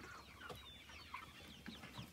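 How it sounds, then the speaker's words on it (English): Chickens on a farm give a run of short, quiet clucks and murmurs, several birds overlapping in a soft, uneven rhythm with a faint background hum. "He's going over there to feed those chickens."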